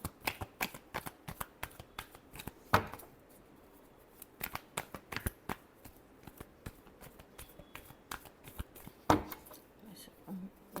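Tarot cards being shuffled by hand in repeated quick riffling bursts, close and crisp, with short pauses and soft handling noises between them.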